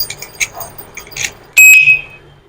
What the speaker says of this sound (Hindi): अगर फिर भी वो छू रहा है तो उसको बहुत से अलार्म करेगा